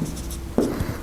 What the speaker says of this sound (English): let me write this equation system over here